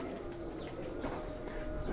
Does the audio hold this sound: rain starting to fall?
no